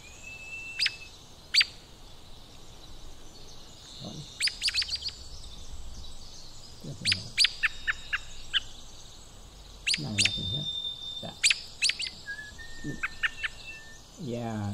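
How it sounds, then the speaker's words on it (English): Varied thrushes singing in a forest, with long, solemn, steady whistled tones that step between pitches, broken by sharp chirps and short calls from other birds over a faint low ambient rumble. "it just it seems to get this really nice blend of um, varied thrushes, which are the ones going"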